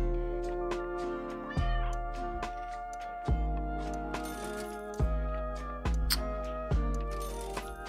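Cartoon cat meows from the video game Super Auto Pets, sounding over a steady layer of game music with repeated tonal chimes and clinks, fairly loud and without any talk.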